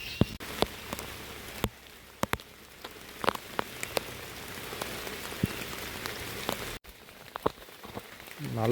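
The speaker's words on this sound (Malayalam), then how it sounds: "നല്ല മഴയാ." Heavy rain pours down in a forest, making a dense steady hiss with scattered sharp drops hitting nearby surfaces. It is close and continuous with no speech.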